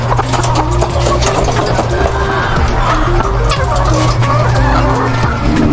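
A dense chorus of clucking laying hens fills a poultry layer farm, continuous and loud from start to finish, with overlapping calls near and far and no one speaking.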